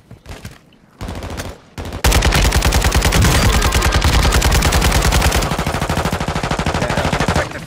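Loud, close machine gun fire from a first-person shooter video game: a few brief bursts, then a long, unbroken rapid stream of shots.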